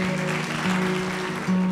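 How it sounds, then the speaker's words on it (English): Wedding guests at Vista West Ranch in Dripping Springs, Texas, applaud in a steady, even wash of clapping, with a sustained tone held underneath. "Give yourselves a round of applause."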